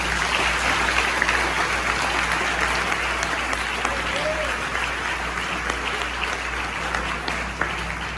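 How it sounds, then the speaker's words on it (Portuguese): A church congregation applauds at a Portuguese-language consecration service, steady dense clapping filling the room for the whole stretch at an even loudness, with a faint murmur of voices underneath. "Aplauda Jesus."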